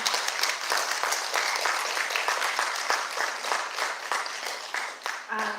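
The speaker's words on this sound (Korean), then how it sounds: "여러분 뜨거운 박수로 맞이해 주시기를 바랍니다" An audience at an indoor lecture forum bursts into steady, dense applause, continuous clapping filling the room before fading slightly at the end.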